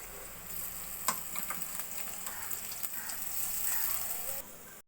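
Grated spice paste hitting onions already fried red in mustard oil, a soft, steady sizzle and crackle with faint stirring scrapes, quiet and close, with no talking.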